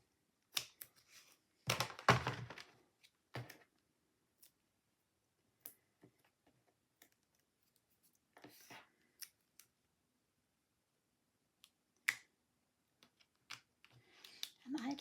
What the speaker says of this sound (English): So I'm just going to cut some smaller pieces off of there.